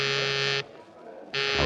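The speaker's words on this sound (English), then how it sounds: "I was thinking about it when the call buzzer zizzed in my ear." A call buzzer sound effect from a 1948 old-time radio drama: two loud, steady electric buzzes separated by a short gap, alone with no talk.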